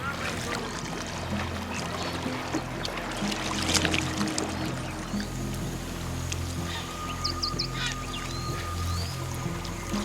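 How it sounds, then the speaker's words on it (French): A spur-winged goose calls faintly in the Okavango wetlands, with thin, brief cries sitting under a steady drone of boat engine and water noise. "Oie de Gambie."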